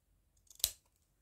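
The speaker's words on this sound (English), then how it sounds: "So let's cut another little couple of random bits here." Scissors make a single sharp snip through old denim jeans fabric, a brief close cut preceded by a few soft small crunches, with no talking.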